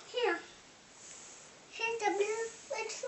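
A pet cat meows several short times indoors, fairly close and soft, with a person speaking in between the calls.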